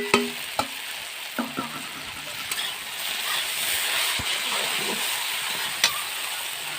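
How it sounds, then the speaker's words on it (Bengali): Potatoes and pointed gourd fry in a pan with a soft, continuous sizzle while a spatula stirs them, knocking sharply against the pan several times, close and without speech. "নাড়তে নাড়তে বেশ কিছুক্ষণ 2-3 মিনিট ধরে ভালো করে ভেজে নেব"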